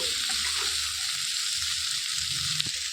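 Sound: bitter gourd frying in oil

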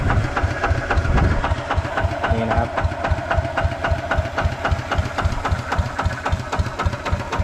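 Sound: engine revving lightly

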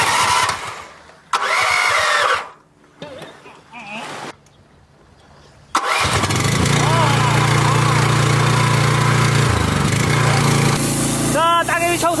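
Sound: high-pressure washer engine running, cleaning barnacles off a boat

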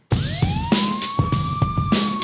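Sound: police car siren

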